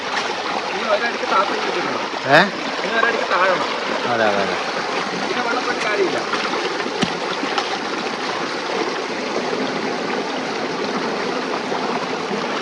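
Steady rushing water runs throughout, a broad continuous wash, with a man's short spoken replies and a brief clatter near the start.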